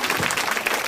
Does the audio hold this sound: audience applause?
yes